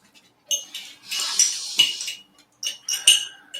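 A metal fork scrapes and clinks against ground nuts in a small dish, the nuts slightly wet and partly turned to nut butter, close bursts of gritty scraping with short pauses between them.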